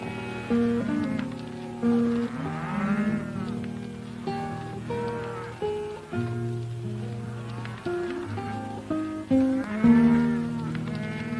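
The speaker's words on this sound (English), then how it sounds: "What ranch these cattle come from, Carl?" A herd of wild steers lowing repeatedly, with overlapping long moos at varied pitches rising and falling in near-continuous succession, several animals calling close by.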